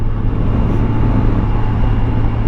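Steady, loud engine drone of a Kawasaki Versys 1000 motorcycle pulling hard in fifth gear, a continuous low hum with wind roar, no speech.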